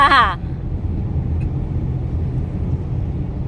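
Steady low road-and-engine rumble from cars in a traffic jam, heard from inside a vehicle and continuous throughout, with a short voice speaking at the very start.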